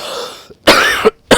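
Two sharp, harsh coughs from an unwell person close to the mic, separated by a brief pause, with a quieter rough throat sound just before them.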